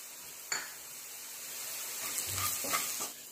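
Kashmiri chilli, amchur powder and garam masala roast in a pan for puff patty filling, giving a soft, steady sizzle with a few light stirring scrapes. No one speaks.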